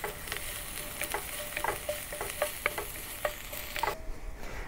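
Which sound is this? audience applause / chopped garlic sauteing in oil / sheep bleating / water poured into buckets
chopped garlic sauteing in oil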